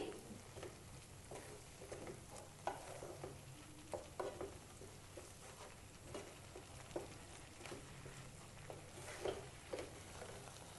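Masala powder and salt being stirred into an amaranth leaf and lentil curry, faint scraping stirs with a low simmering sizzle and light taps of the spoon.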